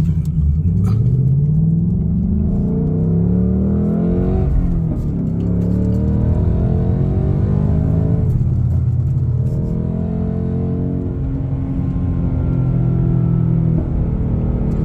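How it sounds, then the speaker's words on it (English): A Dark Horse car drives under steady load with its rumbling engine loud and close. The pitch drops and rises through gear changes, and a brief burp comes on the downshift. "Hear that little burp?"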